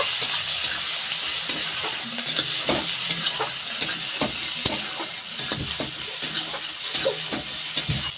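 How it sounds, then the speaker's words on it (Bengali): Masala for a tilapia curry frying in oil as it is stirred, giving a loud, constant sizzle over repeated scraping and knocking strokes of the spoon against the pan, with no voices. "এইবার মশলাটা ভালো করে কষিয়ে নেব।"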